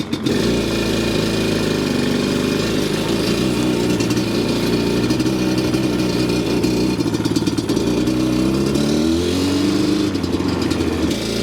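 A 2001 Yamaha Banshee ATV engine runs in first gear, a loud, close, continuous buzzing two-stroke drone that holds steady and then shifts in pitch near the end.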